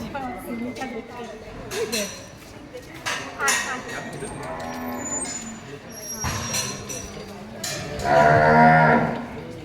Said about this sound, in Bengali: চলে এসেছি গোশালাতে। এই যে এখানে শুধু কিন্তু গরু,